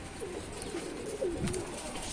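Pigeons in a rooftop loft coo softly, low wavering calls rising and falling over steady background noise, with a few brief flutters and no speech.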